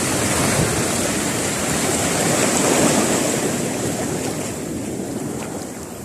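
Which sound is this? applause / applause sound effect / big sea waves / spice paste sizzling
big sea waves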